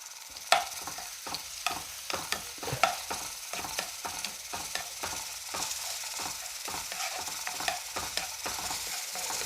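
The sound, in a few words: crushed ginger and garlic frying in a pan for liver fry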